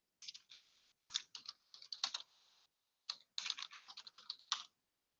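Keys clatter on a computer keyboard in quick close-up bursts of typing, separated by short pauses, with nothing else audible.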